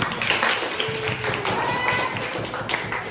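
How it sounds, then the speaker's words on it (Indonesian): A small class claps for a student named Reza, a brief burst of scattered hand claps close by with voices over them. "kasih tepuk tangan dulu buat Reza"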